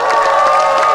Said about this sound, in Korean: 큰 박수로 응원을 더해주시기